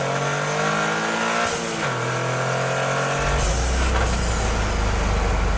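A Toyota GR Corolla engine with an offbeat, inline-six-like character revs steadily, loud and close, with the pitch shifting as it climbs and settles through the gears.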